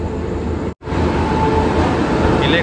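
Train 22659 Yog Nagari Rishikesh Express, running from Thiruvananthapuram to Rishikesh on the Konkan Railway with an electric engine and LHB coaches, rumbles loudly and steadily from close by, broken by one brief sharp dip in sound.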